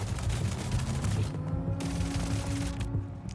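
A KKV SMG in a video game fires rapid, dense automatic bursts, loud and close, with a brief pause between two strings of shots.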